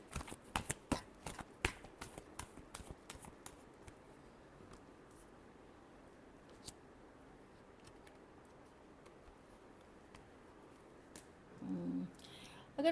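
Tarot cards shuffled by hand in a quiet room, a long run of soft riffling and papery clicks with scattered sharper snaps, a brief louder rustle near the end.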